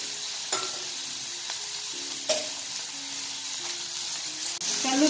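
Tomatoes and other ingredients for white kurma sizzle and fry in a pan, with a steady hiss and a few sharp scrapes and clinks as a spoon stirs them.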